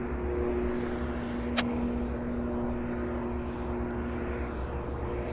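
United Airlines airliner at Vancouver Airport, departing on a flight to Chicago: a steady, distant broadband jet roar holding level throughout, with a faint tonal hum underneath and a brief sharp click partway through.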